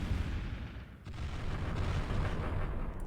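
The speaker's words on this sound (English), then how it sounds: "And I want you to use EM cannon over there." An EM cannon barrage in the Final Theory space strategy game pounds away as a thick, continuous rumble of heavy booms, loud and near, with a sharper crack around the one-second mark.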